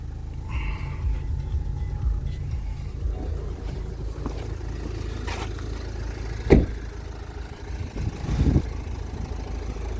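A Renault Koleos 2010 2.0 dCi diesel engine idles steadily with a low, even rumble, broken by a couple of brief knocks or clicks nearby.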